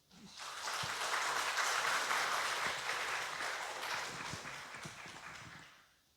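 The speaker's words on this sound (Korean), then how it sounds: "우리 한번 박수 한번." A church congregation bursts into applause after a prayer at a Sunday service, a broad, steady wash of clapping that swells quickly, holds for several seconds and fades out.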